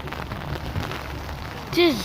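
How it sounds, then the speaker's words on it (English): A steady wash of heavy rain pours down outdoors, with drops spattering nearby, and a short vocal sound rises near the end. "It's like raining so bad."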